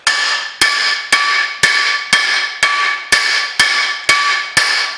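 Ten sharp metallic hammer strikes on a seized part at the rear of a Renault Master van ring out at a steady rhythm, each blow clanging loudly and leaving a bright ringing tail.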